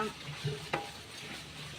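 Pork sizzles in a pan while being stirred, with a soft steady fry and a few quick scraping clicks from the utensil, close and brief, with no speech.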